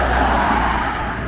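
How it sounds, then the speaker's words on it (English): Cars drive up and down a busy residential street in the morning, a steady loud road roar of passing traffic with no talking. "Cars going up and down."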